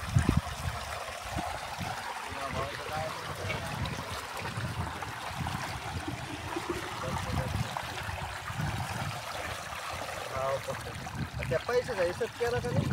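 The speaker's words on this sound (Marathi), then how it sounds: "आई आता पाणी भरते पिण्यासाठी." Water runs steadily on a village farm as a mother fills drinking water, a continuous splashing, trickling flow close by with low rumbling underneath and voices talking in the background.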